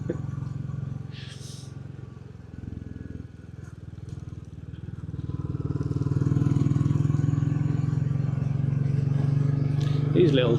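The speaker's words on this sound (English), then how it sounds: "These little types of lanes are just perfect for these Enfield 350s. Just bimbling along, looking at the scenery." A Royal Enfield Bullet 350 single-cylinder motorcycle thumps steadily along a country lane, its low engine note rising in loudness midway, under a rider talking throughout.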